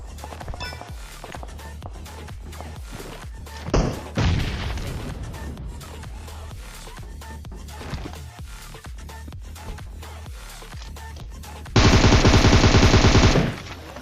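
Rapid gunfire in a PUBG-style battle royale video game, with dense bursts of automatic fire, a sharp blast near the start and a loud sustained burst near the end, all heard without any talk.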